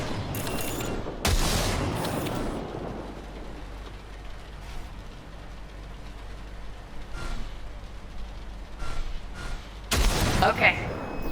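Gunfire from a weapon during target calibration in Cyberpunk 2077 cracks out in loud separate bursts, one at the start, another soon after and a last near the end, with game background rumble between.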